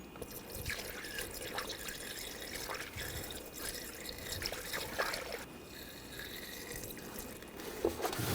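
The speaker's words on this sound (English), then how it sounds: "Use the funnel and put the appropriate type of coolant in." Coolant poured through a funnel into the reservoir of a 2007-2013 BMW X5, a faint continuous trickle with small drips and splashes, close by and without talk.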